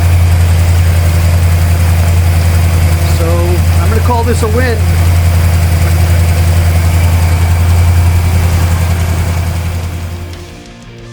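A 1971 Pontiac Catalina four-door with a freshly rebuilt two-barrel carburetor idles steadily and loudly in a garage, a deep constant rumble that fades near the end, with someone talking briefly over it.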